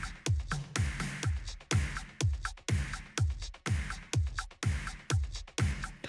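A processed, punchy drum mix loops alone, with a steady pattern of thick kick and snare hits and busy hi-hats, dense and loud-sounding.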